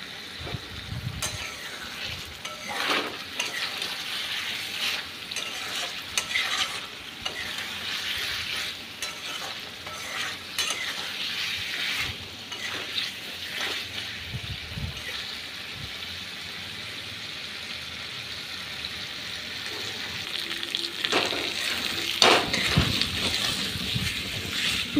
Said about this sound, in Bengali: এরপর খুব ভালো করে মশলাটা কষে নেব